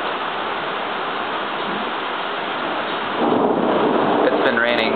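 Thunder rolls in during steady rain after a lightning flash, a loud, deep rumble building over a constant hiss of rainfall and lasting to the end.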